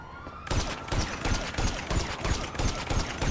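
Rapid gunfire in a serial-killer-themed video game, a run of sharp, loud shots in quick bursts that start abruptly after a brief quiet tone and continue steadily to the end.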